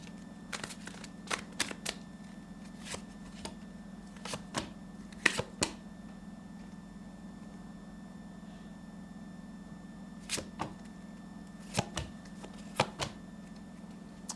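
Cards riffled and snapped in short bursts, a few quick clusters separated by pauses, against a steady low hum.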